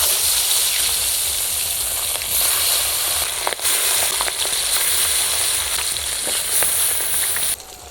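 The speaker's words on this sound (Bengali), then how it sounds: "তেল গরম হয়ে গেছে মাছ দিয়ে দেবো" Pabda fish sizzle and crackle steadily in hot oil, a loud, continuous close frying hiss with scattered pops throughout.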